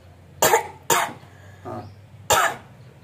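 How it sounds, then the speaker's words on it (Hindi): Several harsh coughs in a row, three loud bursts and one softer one, close by with short pauses between them and no talking, during a kunjal kriya yoga water-cleansing exercise. "अब खांसी करो ऐसे 5-6 बार"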